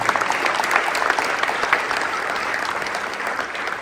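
School audience of students applauding a retiring principal at a students-of-the-month event, a loud, sustained wash of many hands clapping close by, even and continuous throughout.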